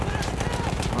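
Rapid gunfire from the Battlefield 1 video game crackles densely and loudly throughout, with a dense wash of battle noise and a player talking over it.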